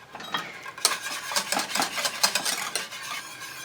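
Passion fruit cake batter whisked in a bowl, rapid rhythmic scraping and clinking of the whisk against the bowl, close and fairly loud, with no talking.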